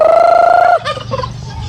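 A turkey lets out a loud, wavering gobble up close, followed by softer clucks and rustling.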